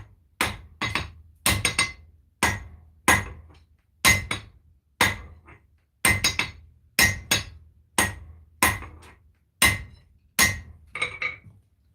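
A hammer forges a kukri knife blank, knocking down its corners. Sharp metallic blows ring out close and loud in a steady rhythm, many strikes landing in quick pairs or triplets over several seconds.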